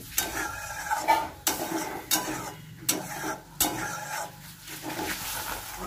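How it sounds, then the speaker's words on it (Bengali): Mustard and coconut paste being stirred and sautéed in a pan, a low sizzle broken by a regular series of sharp spatula scrapes and knocks against the metal, no speech. "সর্ষে আর নারকেলটা একটু নাড়া হয়ে গেছে, মানে কষানো হয়ে গেছে"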